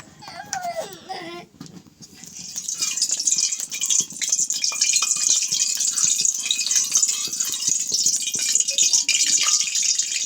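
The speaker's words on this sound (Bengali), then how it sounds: "এখন আমি কড়াইয়ে দিয়ে দিচ্ছি তেল" Oil is poured into a kadai for frying cabbage pakora, a steady hissing trickle that runs for several seconds after a short burst of background voices and clatter.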